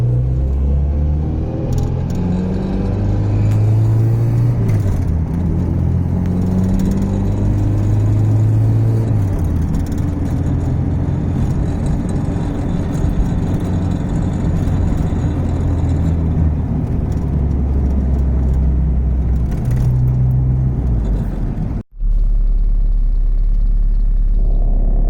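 A car engine droning and rising in pitch as it accelerates hard, with steady road rumble, then a brief cut before the engine continues.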